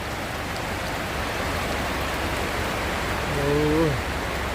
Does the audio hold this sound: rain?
yes